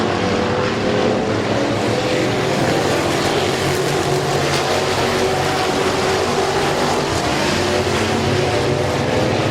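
Race cars circling the oval at Midvale Speedway, a dense, continuous engine roar with overlapping motors droning at steady high volume throughout, no pauses or voices.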